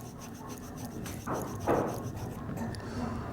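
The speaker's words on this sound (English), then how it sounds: "All the ends of the pipe must be cleaned." Copper pipe ends being cleaned before soldering, a faint scratchy rubbing of abrasive against metal, a couple of brief louder strokes standing out over a low steady background hum.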